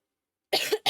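Two close, sharp coughs, the first longer and rough, the second short, after a second of silence.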